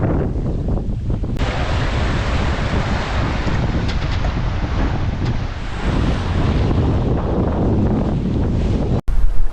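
Strong wind roars continuously across the microphone aboard a sailing boat at sea on a beam reach, with rushing water and surf underneath, loud and close throughout, with no talking.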